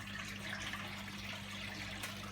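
An AEG L76680WD Turbo Lavamat washer dryer pumps out water with a low, steady hum and a faint watery trickle, quiet and constant throughout.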